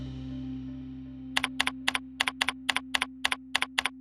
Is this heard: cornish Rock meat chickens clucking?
no